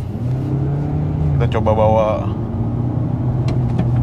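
A Toyota Camry 2.5 V on a test drive gives a steady low engine hum from inside the cabin while people talk over it, the engine note rising only slightly.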